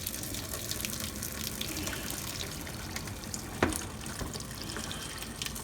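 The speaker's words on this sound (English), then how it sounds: "Pour all the water off." Water being poured off cooked beef stew meat in a home kitchen, a steady faint splashing stream with one brief sharper splash partway through, no talking.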